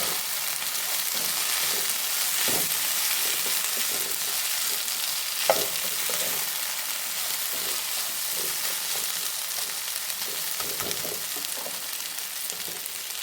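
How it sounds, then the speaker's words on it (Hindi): Chopped cabbage stir-fried in a pan over a high flame, a steady broadband sizzle running throughout with irregular scraping knocks of a spatula, fairly close and with no talking. "इसको भी हम मिक्स करेंगे, हाई फ्लेम पर मिक्स करेंगे इसको।"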